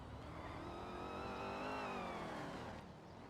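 A car engine in the video game Project Zomboid revs steadily with a rising, whining pitch that swells and then eases off, faint and continuous.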